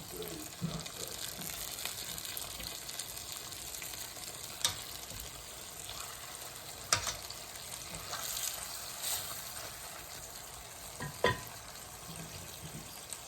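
Honey butter garlic chicken breast sizzles steadily in a pan right after being flipped, a continuous close frying hiss with a few sharp clinks and stirring knocks scattered through it.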